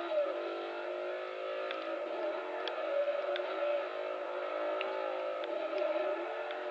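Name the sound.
car engine revving while drifting in a racing video game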